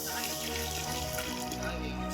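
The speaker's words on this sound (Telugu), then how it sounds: "ఒక 1/2 లీటర్ వాటర్ అయితే వేసుకుంటున్నా" Half a litre of water pours steadily into a pot of curry, a continuous splashing stream running for about two seconds with no break, close and fairly loud.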